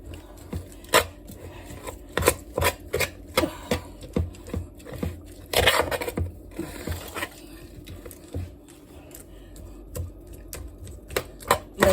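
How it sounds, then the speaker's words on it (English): A spoon mixes homemade cornbread dressing in a bowl, making a run of sharp, close clacks and scrapes at an uneven rhythm that is louder in one burst near the middle. "I'm just going to use my spoon and mix it up."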